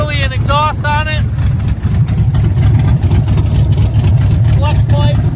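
Loud, rough idle of a cammed Chevrolet Silverado engine with no real exhaust fitted, heard up close, with a choppy lope throughout and short belt-like squeals chirping over it at the start and end.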